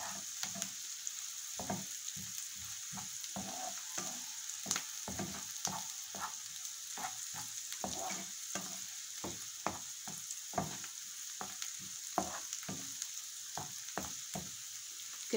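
Onions softening in a pan for liver, a gentle continuous sizzle broken by frequent soft scrapes and taps of stirring, no voices.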